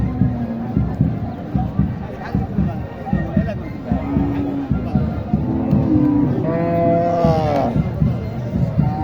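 Cows moo loudly and repeatedly at a crowded cattle market in Naogaon, with long lowing calls rising over a busy murmur of people talking.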